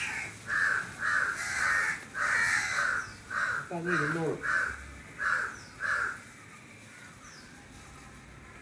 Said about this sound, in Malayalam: കാക്ക ഇനി വിരുന്ന് വിളിക്കണ്ട